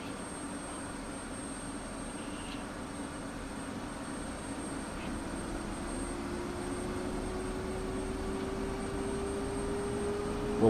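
An F-16 Viper jet engine spools up in the DCS World flight simulator, a steady broadband roar with a slowly rising tone that builds gradually and evenly throughout, with no voices over it.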